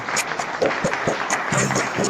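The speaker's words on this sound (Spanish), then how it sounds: "Pues un aplauso desde aquí, desde la sede Papantla." Conference attendees break into applause at the Papantla venue, a dense patter of clapping from a modest crowd, moderately close, with a voice briefly heard under it.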